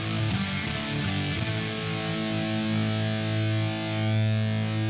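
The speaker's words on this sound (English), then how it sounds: "That's actually a great sounding distortion pedal when I bring the output level down and it's not mashing the front end of the tube amp so much." Electric guitar played through a distortion pedal into a tube amp, a thick sustained distorted chord that rings out steadily for several seconds with no talking.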